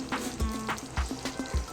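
Prawn theeyal curry bubbling in a pan, soft regular pops and thick plops at an even rhythm, close and fairly quiet, with no talking.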